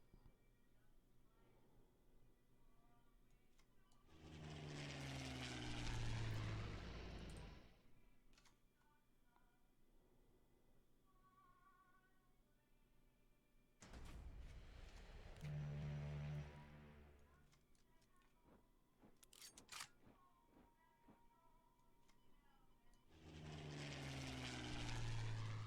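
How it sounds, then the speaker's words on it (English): Propeller warplanes in the WWII card game KARDS roar past in three loud swells, each rising and fading over several seconds, with quieter game ticks and effects between the passes. "Watch out for their planes"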